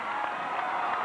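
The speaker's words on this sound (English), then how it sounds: "Listen to the crowd." A gymnasium crowd at a 1995 high school basketball game between ROCORI and Brainerd roars in a steady, sustained wash of cheering and applause late in a close game.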